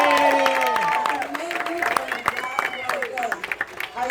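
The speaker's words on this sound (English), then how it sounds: "Please give a round of applause to Lilia Calderon." Applause for a kindergarten graduate at a graduation ceremony, a crowd clapping and cheering steadily through several seconds while a voice speaks over it.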